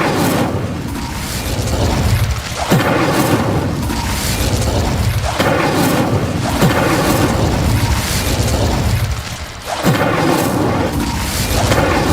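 Incendio fire spell cast repeatedly in Hogwarts Legacy, each cast a loud whooshing burst of flame with a sharp crackling onset, recurring every few seconds over dense game ambience.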